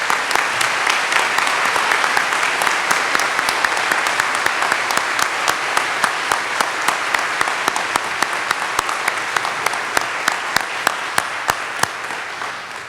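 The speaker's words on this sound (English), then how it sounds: "And I want you now to be applauded by us." Audience applause at a Baylor law school commencement ceremony, a dense steady roar of many hands clapping that holds throughout and tapers slightly at the end.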